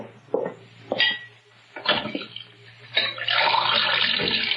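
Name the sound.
water being fetched into a glass, radio drama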